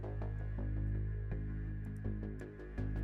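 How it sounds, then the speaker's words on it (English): A synthesizer arpeggio steps through repeating notes alongside sustained synth pads and keys, giving a dark cinematic crime-score mood; the pattern runs steadily at moderate level with no talking. "oh, this is more of an arp."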